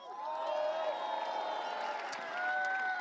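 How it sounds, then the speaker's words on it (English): A crowd at a BTCC race weekend at Silverstone National cheers for a racing team principal, a steady broad roar of voices with whoops rising and falling, moderately distant, with an announcer talking over it. "A lovely cheer for Pete Osborne."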